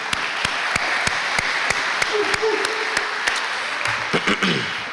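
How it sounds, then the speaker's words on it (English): Scattered hand claps in a steady, fairly sparse rhythm over a murmuring room at a high school sports awards ceremony, with a brief tonal sound near the end. "So we could give them a round of applause."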